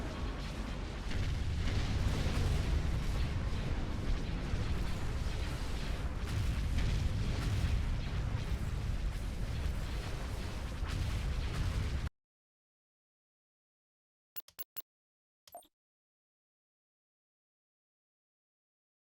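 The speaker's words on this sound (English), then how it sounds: "Let's see where the other explosions come from." Loud, continuous rumble of space-battle explosions from the Star Wars strategy game Thrawn's Revenge, a dense roar lasting about twelve seconds before cutting to silence, followed by a few brief, faint bursts.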